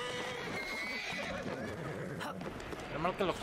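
A horse whinnies in Assassin's Creed Syndicate, a long wavering neigh up front with hoof clatter and game noise beneath, as a voice talks alongside.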